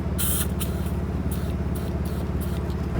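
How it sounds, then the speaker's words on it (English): Aerosol ant spray hissing at wasps nesting inside a car, a fairly steady spray broken by short pulses under a constant low engine-like rumble, close and moderately loud, with no talking. "Could only find ant spray, but I should do."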